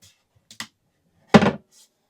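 A small firewood-access drawer on a tiny off-road cargo trailer camper opens or shuts with one short, close wooden thunk, preceded by a couple of faint light knocks in an otherwise quiet space.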